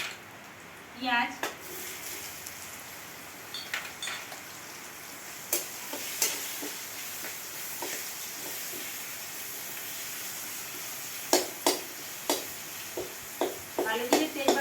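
Onion frying in mustard-free fish-frying oil with black cumin and a bay leaf, a steady soft sizzle and hiss with intermittent spatula scrapes and knocks on the pan, while someone talks over it.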